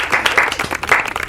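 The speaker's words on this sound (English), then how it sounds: "Can we have a wee round of applause for Carl Baker because he's..." A live radio show audience gives a short round of applause, uneven bursts of clapping rising and falling over a little more than a second.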